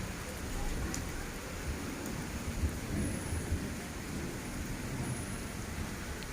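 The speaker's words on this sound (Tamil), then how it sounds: "இடி வந்து வெடி மாதிரி வெடிக்குது." Steady rain hisses continuously while low thunder rumbles in the background, with a few sharper low cracks.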